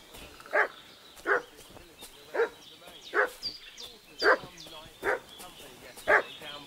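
A dog in the medieval video game Kingdom Come: Deliverance 2 barks repeatedly, seven or so sharp barks spaced roughly every second, moderately close over quiet outdoor ambience.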